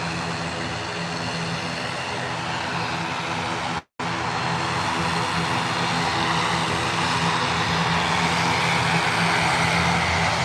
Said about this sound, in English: 787-8 heading out.